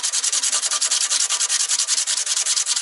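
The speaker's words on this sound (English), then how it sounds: "This is a very slow process if you use the kind of sandpaper that I'm using." Hand sanding a VW MK2 engine bay with sandpaper: rapid, steady back-and-forth rasping strokes, close and loud, with no voices.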